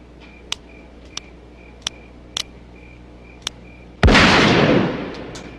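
Gunshots in a movie scene where a man shoots his bills at home: several sharp, isolated cracks spaced about a second apart, then one much louder, broadband blast that rings out and slowly fades.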